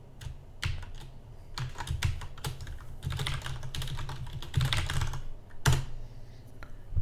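Fingers tap rapidly on a computer keyboard up close, producing irregular clusters of sharp clicks with occasional heavier keystrokes over a faint background hum.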